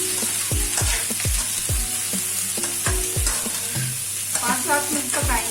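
Capsicum fries with masala in a pan for restaurant-style chilli chicken, a loud steady sizzle under repeated scraping stir strokes at a regular rhythm, close up.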